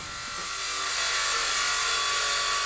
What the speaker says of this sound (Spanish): vamos a cortar el arillo que luego nos va a servir para emparchar las pieles en el bombo